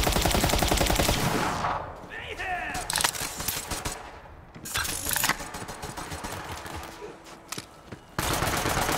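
Rapid automatic gunfire in Borderlands 3, loud bursts opening and closing a stretch of quieter shots and clatter, with a voice briefly in the mix.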